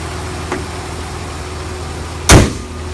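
A 2012 Jeep Liberty with a 6-cylinder engine idling, a steady low hum throughout, with a faint click early on and a sharp loud thump near the end like a door or hood closing.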